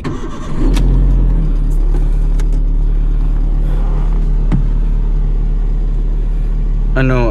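A Proton Saga BLM car starts up and its engine runs at a steady idle on a test drive, with a loud continuous low hum and a few clicks and knocks, ending with a brief rising tone.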